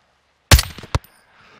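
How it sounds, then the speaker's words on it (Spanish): Gunfire in the Call of Duty Modern Warfare II video game: one sharp, close shot, then a second shortly after and a third near the end, with quiet between them. "Buenos disparos, hermanos"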